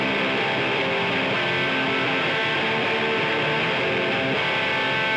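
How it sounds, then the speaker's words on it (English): An electric guitar played through a Boss DS-1 distortion pedal in a Midwest emo style, thick and saturated, with strummed chords ringing loud and sustained throughout. "And I'm pairing that with a more distorted guitar as well,"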